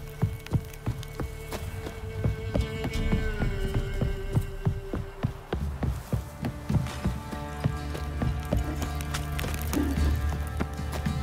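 Horses in Witcher 3 clop in an irregular rhythm over a steady hum in the game, with other gameplay sounds close by.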